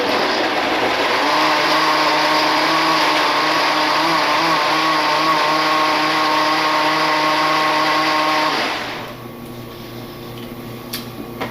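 A blender whirs loudly and steadily on its puree setting, breaking down oranges and tangerines for sugar-free marmalade, its motor droning for several seconds before spinning down into quiet.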